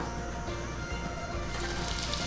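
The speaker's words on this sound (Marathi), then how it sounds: "तेल तापलेलं आहे आपण आता हिंग टाकू थोडासा" Asafoetida dropped into hot oil in a home kitchen pan, giving a steady, close hiss and crackle of frying that carries on without pause and grows slightly brighter toward the end.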